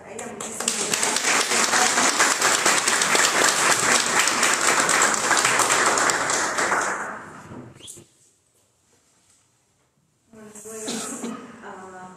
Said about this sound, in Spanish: Les pido un fuerte aplauso para ella